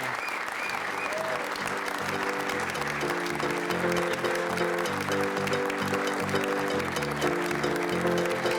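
Wedding guests clap steadily and loudly right after the couple is pronounced husband and wife, a dense continuous applause with cheering and music mixed in throughout.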